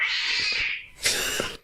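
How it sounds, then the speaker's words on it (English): A cat meows close by: one long, strained, high-pitched cry, then after a brief gap a second shorter, sharper meow, with nothing else around it. "That was a cat."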